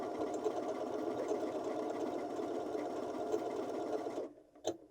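A Janome 6700P sewing machine runs in a continuous steady whir of rapid stitching for about four seconds, then stops, followed by a couple of soft clicks, close and without voices.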